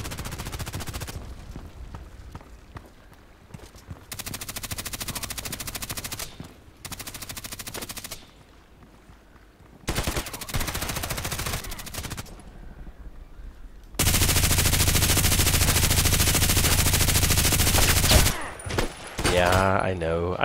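Bursts of automatic gunfire from the online shooter Contract Wars, loud and sustained in several long volleys with short gaps, the heaviest stretch near the end, with no talk over it.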